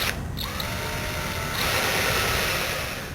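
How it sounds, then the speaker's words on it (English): A power drill whirs steadily boring a relief hole through water-filled iron pipe, its pitch shifting partway through as the bit bites harder, with a continuous grinding mechanical tone. "So what I was doing was drilling the relief hole on each end like this."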